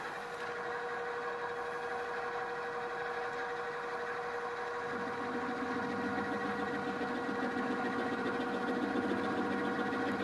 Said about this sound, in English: It looks very much like what you'd see and hear in a milling machine.